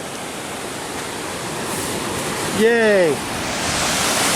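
Skalkaho Falls, a waterfall in a canyon, pours as a steady, even roar of rushing water throughout, briefly interrupted by a cheerful shout partway through.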